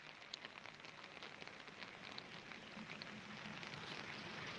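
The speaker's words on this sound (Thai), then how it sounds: "ฝนก็ตกลงมาตลอดเลยนะคะ" Steady rain falling during heavy flooding in Yala, Thailand, a constant dense hiss of drops on surfaces, fairly faint and unbroken throughout.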